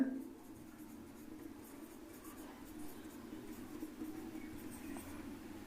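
Handwriting while a math proof about irrational numbers is solved, with soft pen-on-paper scratching and small strokes running steadily and faint under a low background hum, without talk.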